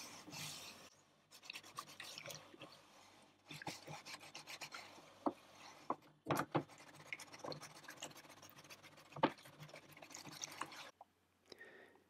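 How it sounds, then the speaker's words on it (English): Repeated scrubbing strokes rasp against a hard plastic VIC-20 computer case in soapy water, with occasional drips and splashes, close up and irregular, with short pauses between bursts. "now it's the turn of the case to go under soapy water and get a good scrub"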